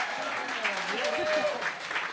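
Audience applause and cheering for a performer at a live song contest final, a broad steady wash of clapping under a bright crowd tone, moderately loud throughout.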